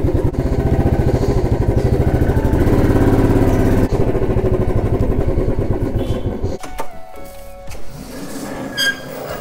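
Royal Enfield Bullet motorcycle riding through a crowded market on New Year's day, its steady engine thump loud and continuous for several seconds before dropping away, leaving quieter street noise.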